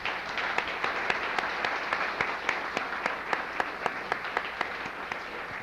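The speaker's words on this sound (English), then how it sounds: "Can we have a round of applause?" A theater audience at a roast breaks into sustained applause, dense crowd clapping with a few sharper individual claps standing out in a rough rhythm.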